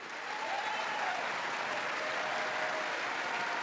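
Sped-up applause in the U.S. Congress, a dense, continuous wash of many hands clapping at an unnaturally quick rate, steady and fairly faint, with no voice over it.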